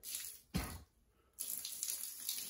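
Water poured from a container onto old thinset mortar on a floor, a brief splashing gush followed after a pause by a steadier, softer pour, close and quiet with no talking.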